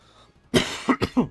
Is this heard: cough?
yes